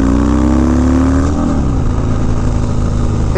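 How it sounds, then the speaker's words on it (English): Harley motorcycle fitted with an aftermarket exhaust, revving hard close up: a loud, deep engine roar rising in pitch, then dropping back to a rough, throaty idle over a few seconds. "Hopefully the Donna's exhaust showed up on the sound"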